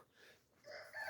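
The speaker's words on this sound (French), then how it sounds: "Ici, on a 4 jeunes coqs Brahma là." Four young Brahma roosters among other poultry outdoors give brief, fairly close calls and clucks rising toward the end of a short stretch, with no talk.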